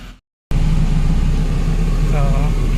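A Toyota Soluna 1.5 GLI sedan with automatic gearbox idles and rumbles steadily up close after a brief silence, a low continuous engine drone with faint voices beneath it.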